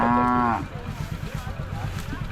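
A single loud, low moo from a nearby bullock at a village fair cattle market opens the recording, followed by quieter background rumbling and faint noise.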